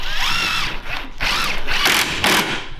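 A power drill drives a Torx-head screw into a cabinet joint, whirring loudly and close in several surges and pauses, with the motor pitch rising and falling as the screw bites into the wood.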